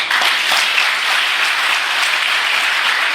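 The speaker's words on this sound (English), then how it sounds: "When you clap well." A seminar audience at a personality development session claps in unison, a loud, dense burst of applause that holds steady for several seconds without voices.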